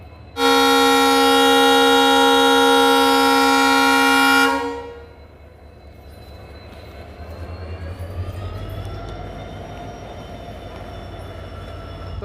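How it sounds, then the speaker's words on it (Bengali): WDM3D diesel locomotive leaving Malda's platform two, opening with a long, loud, steady horn blast lasting about four seconds, then a low diesel engine rumble building as the train pulls away. "বন্ধুরা ট্রেন আমাদের বেরিয়ে গেল মালদার দু নম্বর প্ল্যাটফর্ম থেকে"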